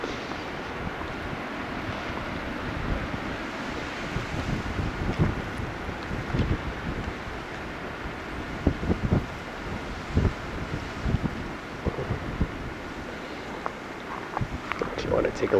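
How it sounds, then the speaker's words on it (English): Blizzard gusts of about 50 mph buffet the microphone in Derry, NH during the 2013 storm, blowing snow in a steady roar with irregular louder bursts throughout, and someone speaks now and then. "Being 50 mile an hour wind gusts"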